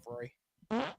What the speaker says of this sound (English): That was not a queef. That was a fart.